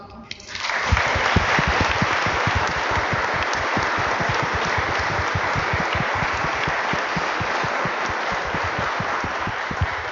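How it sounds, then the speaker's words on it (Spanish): A church congregation at Sunday Mass breaks into loud, sustained applause for grandparents, with many hands clapping steadily for about nine seconds after a quick swell at the start. "Todos los que son abuelos y abuelas, vamos a darles un aplauso."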